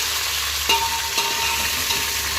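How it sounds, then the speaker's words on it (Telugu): Mixed vegetables frying in a pan for vegetable rice, a bright continuous sizzle with a couple of soft stirring knocks, close and steady, no talk. "కొంచెం ఫ్రై అవ్వాలి."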